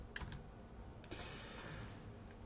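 Someone types a message on a computer keyboard in a quiet room, giving a few soft scattered key clicks over a low background hum.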